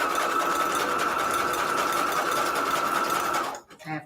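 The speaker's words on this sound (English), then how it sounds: "I'm just going to sew this down," A sewing machine runs steadily as it stitches down vellum pockets, a continuous close whir lasting several seconds before stopping abruptly, followed by a brief soft rustle.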